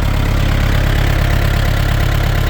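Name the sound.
Kubota MU4902 tractor engine idling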